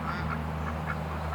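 Ducks with hurt hips quack in a pen inside a barn, several soft rhythmic quacks close by over a steady low hum, no talking.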